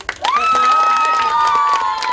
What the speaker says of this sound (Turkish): buradaki herkes için kocaman bir alkış olsun.